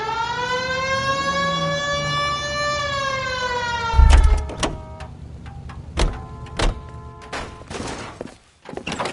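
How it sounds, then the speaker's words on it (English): Police car siren in the video game L.A. Noire, a steady wail rising and sliding for about four seconds, then cut short by sharp loud bangs and clatter that follow in bursts. "Hit the siren."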